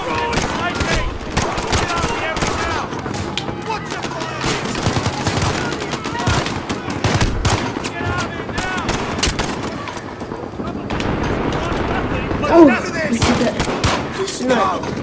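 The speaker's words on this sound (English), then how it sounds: "Shots fired" Gunfire in the Modern Warfare video game: dense bursts of rapid shots and volleys that crowd the first half, with quieter spells and a final sharp report near the end, under a busy game soundscape.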